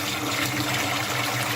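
Hot water runs from a tap into a sink, filling it to wash transformer restoration parts: a steady, close, even gush with no talking.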